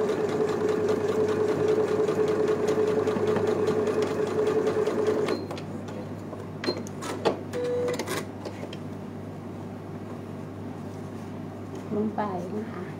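Sewing machine stitching fabric along a traced line while piecing quilt blocks: a steady, fast mechanical whir with rapid needle ticks runs for about five seconds and then stops, followed by a few clicks and handling noises while someone talks.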